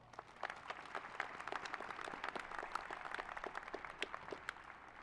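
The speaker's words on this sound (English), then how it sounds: "Please join me in giving the Cochise College Foundation Board a round of applause." Faint, scattered clapping from a college commencement audience applauding the Cochise College Foundation Board, soft and distant with individual claps audible throughout.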